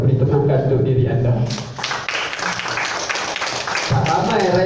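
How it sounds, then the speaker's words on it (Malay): Audience applause at a Malaysian entrepreneurs' gathering breaks out after a spoken line, a dense crowd of claps running steadily to the end, with a voice over it at the start. "So beri tepukan untuk diri anda."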